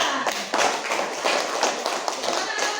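A group of children in a classroom claps together in quick, fairly even rhythm, close by, for a few seconds.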